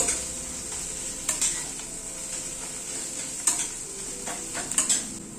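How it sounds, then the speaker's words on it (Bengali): Ground spices, including Kashmiri red chili powder and coriander powder, stirred in a frying pan, with a soft sizzle beneath repeated scraping strokes and several sharp metallic clinks of the spoon against the pan. "সব গুঁড়ো মশলাগুলো দিয়ে আবার একটুখানি হালকা একটু নাড়াচাড়া করে নিচ্ছি।"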